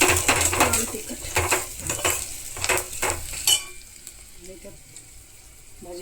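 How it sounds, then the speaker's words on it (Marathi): Vegetables with onion, turmeric, asafoetida and red chili powder sautéed in a pan, with rhythmic scraping and stirring over a sizzle for a few seconds before it quiets to faint frying and a couple of light clinks. "भाजी परतून घ्यायची."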